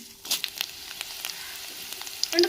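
Dried red chillies frying in hot oil in a home kitchen: a steady close sizzle with scattered crackles and pops, a few sharper spits near the end.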